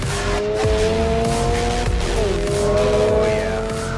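A 2022 Subaru BRZ with a new, more powerful engine revs hard under acceleration, a loud continuous engine note rising in pitch, dipping at a shift, then climbing again, with tire noise, close and dominant throughout.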